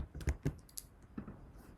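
A repository name typed on a computer keyboard, a handful of close, distinct key clicks in an uneven rhythm, with no talk.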